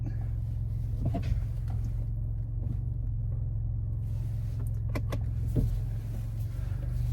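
Steady low engine and road rumble inside a moving Ford Ranger Raptor pickup truck with the radio off, a constant drone broken by a few faint clicks and rattles, no talking.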